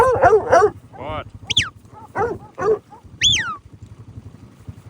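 A farm dog barks, yips and whimpers in short bursts close by, with high whining cries between the barks and some low background noise.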